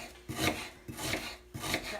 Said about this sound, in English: The onion is chopped.